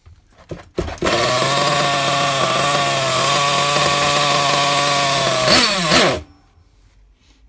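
A nitro RC car engine, a Hyper 7 Pro, roars loud and steady at high revs for about five seconds after a sputtering start, then stutters and cuts out, stalling into silence.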